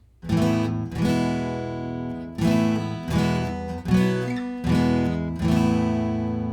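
Acoustic guitar strumming a chord sequence, seven ringing strums spaced in a loose rhythm, each chord sustaining and decaying before the next, close and clear with no voice.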